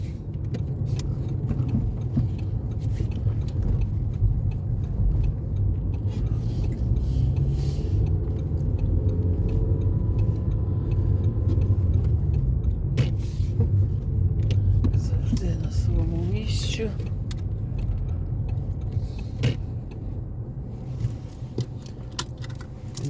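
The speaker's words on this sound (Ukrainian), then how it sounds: "тут ми вже до своєї стоянки під'їжджаємо" A car rolls slowly into a free parking lot in Poland, its engine rumbling low and steady throughout, with faint jangling of keys and small clinks over the hum; a voice speaks briefly.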